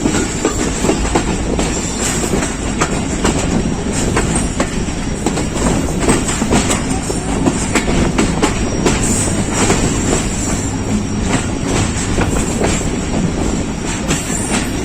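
A passenger train on the Karachi to Lalamusa run rumbles steadily and loudly from onboard, with wheels clattering and occasional squeals over the rails.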